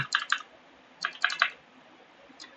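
Python code being typed on a computer keyboard: short clusters of crisp, close key clicks in three bursts separated by brief pauses, quiet and alone.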